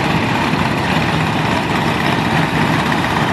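An antique Allis-Chalmers B112 tractor engine idles nearby at an agricultural expo tractor parade, with a low, steady chugging rumble that holds without a break.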